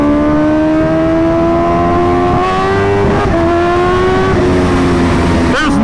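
A Kawasaki Ninja H2R, a record-holding example, revs loudly and steadily close by, its engine note climbing and shifting pitch over several seconds with a brief rising whoop near the end.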